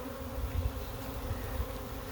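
A honey bee swarm hovers and flies close by, making a faint, steady, continuous buzzing hum with small swells and no voices.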